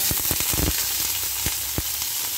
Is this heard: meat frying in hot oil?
yes